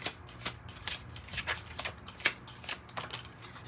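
Tarot cards shuffled by hand during a reading, a quick run of crisp papery riffles and flicks repeating in short bursts, close and fairly quiet with no talking.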